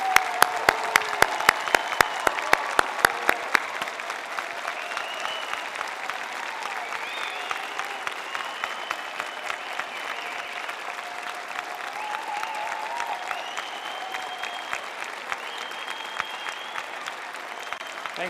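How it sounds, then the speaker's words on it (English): Convocation crowd applauding graduates, a sustained wash of clapping from a large audience, with a few loud, rhythmic close claps at the start, while cheers and voices rise through the steady applause. "Let's show it to them now with a round of applause."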